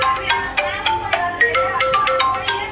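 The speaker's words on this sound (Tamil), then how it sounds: "ஸ்மார்ட் வாட்ச் இருந்ததுன்னா நீங்கள் அலாரம் அடிக்க முடியும்" A phone set off by a smart watch's find-my-phone alarm plays a bright, rapid ringtone melody of repeating chiming notes, close and steady throughout.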